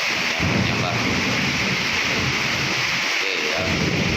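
Heavy afternoon rain pours steadily while thunder rumbles low and close amid frequent lightning, a loud, dense wash of storm noise.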